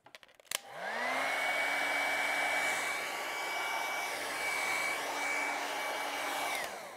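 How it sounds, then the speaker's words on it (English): A hair dryer clicks on and blows with a steady, loud whirring whine, drying acrylic paint on an easel, then switches off after several seconds. "I have to use the hairdryer first on my easel"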